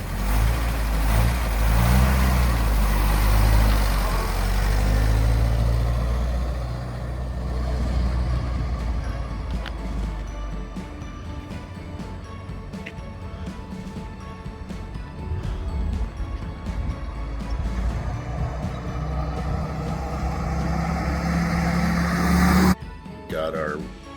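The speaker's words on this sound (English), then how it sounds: "our Willys CJ2A running and driving" A 1946 Willys CJ-2A Jeep engine runs and drives, its loud low rumble rising and falling close by, with people talking over it early on.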